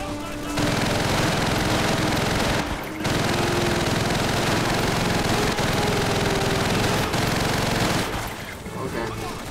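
Call of Duty 3 campaign gunfire at the Crossroads: loud, sustained automatic weapon fire with an engine-like rumble beneath, breaking off briefly near the middle and fading toward the end.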